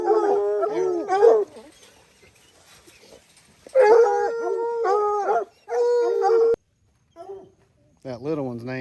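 A coon dog puppy howls in long, wavering cries with some yips, loud and close, in several bursts separated by short pauses on a front porch.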